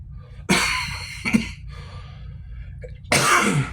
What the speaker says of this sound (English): Cough is really bad today.